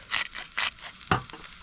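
Short bursts of sizzling from onions in a hot pan, three brief crackling surges with quiet gaps between, close by.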